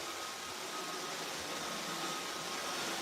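A robot vacuum cleaner runs with a steady, loud broadband whir and a faint high whine, continuous and unchanging throughout.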